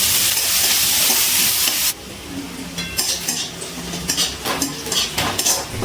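Onion fries in oil in a pan for palak masur dal, starting with a loud, close hiss of sizzling that drops to a softer crackle under intermittent scrapes and clinks of a utensil stirring.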